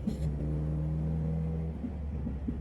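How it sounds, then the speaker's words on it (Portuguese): A 900cc sport motorcycle engine idles with a low, steady rumbling drone and faint mechanical ticks, close and moderately loud, running alone without talk. "O barulho dessa moto eu acho massa demais."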